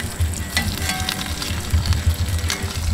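Bacon sizzles and crackles on the grill of a Primo kamado cooking for an all-American burger, a steady dense frying hiss with low rumbling pops, close and alone with no talk.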